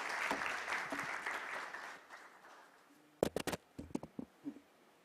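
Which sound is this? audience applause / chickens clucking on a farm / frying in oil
audience applause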